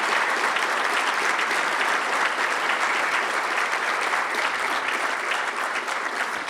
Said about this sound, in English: I'm going to ask you for a huge round of applause for all of them.